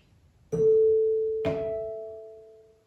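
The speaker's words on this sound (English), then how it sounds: "You might have some chime bars." Two clear metallic chime-bar strikes about a second apart, each ringing out with a long, steady sustained tone that slowly fades.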